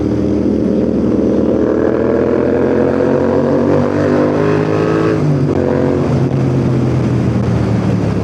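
Royal Enfield motorcycle cruising on an expressway, a loud steady engine drone with rising and falling pitch, continuous wind and road roar throughout, no talking.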